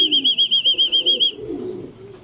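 Racing pigeons at the loft coo in a rhythmic, close series of about eight soft pulses, then fade into low murmuring and faint rustle.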